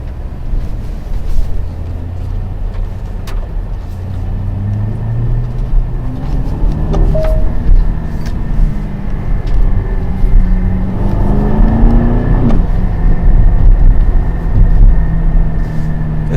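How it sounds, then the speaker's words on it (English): Aston Martin DBX with a 4-liter twin-turbo V8 driving, loud engine rumble rising and falling through gear changes with a rev swell near the middle, heard close and continuous. "What an engine. A 4-liter twin turbo"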